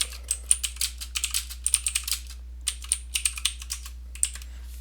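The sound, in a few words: typing on a computer keyboard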